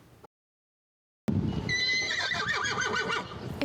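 Horses at a ranch whinny loudly after a brief silence, a long wavering neigh rising and falling close by, with faint hoof clops beneath.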